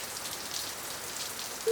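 First raindrops of a rain shower fall outdoors near mango and coconut trees, a soft steady patter with a faint hiss throughout and a brief louder tap right at the end.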